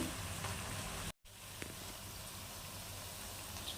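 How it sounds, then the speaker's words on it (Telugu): Onion pakoda deep frying in hot oil, a steady dense sizzle that runs unbroken apart from one brief cut, faint and alone. "లైట్ గోల్డెన్ బ్రౌన్ కలర్ వచ్చేంత వరకు డీప్ ఫ్రై చేసుకోవాలి."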